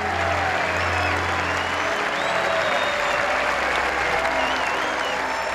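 A large golf gallery at Royal Liverpool during The Open roars and applauds in a dense, sustained wash of cheering that holds steady and loud throughout, with no pauses.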